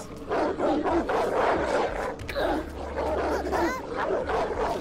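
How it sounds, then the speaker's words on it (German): A dog in the video game Oddworld: Soulstorm barks and whimpers in short repeated yips at moderate volume, mixed with game ambience and occasional player talk. "Da ist ein Hund, aber sonst nichts."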